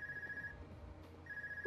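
A phone rings in the video game Trails of Cold Steel II, a steady electronic ring tone that pauses and starts again over quiet background ambience, with no talking.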